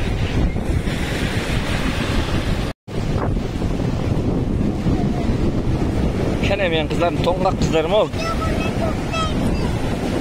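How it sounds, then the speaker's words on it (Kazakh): Strong waves break and wash continuously on the shore of Lake Balkhash, loud and close, with heavy wind buffeting the microphone and someone speaking briefly over the surf. "Толқын күшті бүгін."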